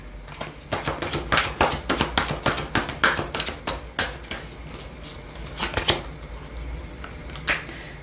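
Tarot cards shuffled by hand, a quick run of crisp riffling slaps and taps in an uneven rhythm, close and fairly loud, easing off near the end with one last sharp flick.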